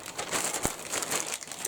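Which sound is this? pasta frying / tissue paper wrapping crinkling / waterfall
tissue paper wrapping crinkling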